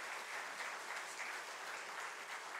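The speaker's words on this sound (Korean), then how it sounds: "이 시간 박수로 이분들을 환영해 주시기 바랍니다." A church congregation applauds new elders during an ordination service at a Baptist church, a steady, even wash of many hands heard from a distance, fairly soft and unbroken throughout.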